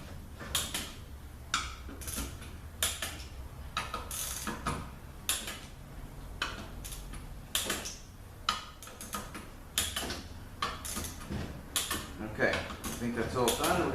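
A ratchet tightening bellhousing bolts on a 722.6 transmission in a star pattern, crisp clicking bursts repeating at a steady pace across the clip, close and fairly loud.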